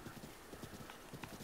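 Hooves of a horse trot in Zelda: Breath of the Wild, a brisk, evenly spaced clip-clop running through the whole moment over low game ambience, with faint speech in the background.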